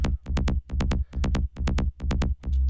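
A punchy psytrance kick drum pounds in a steady four-on-the-floor pulse, each hit followed by a rolling, buzzy bassline filling the gaps, loud and driving.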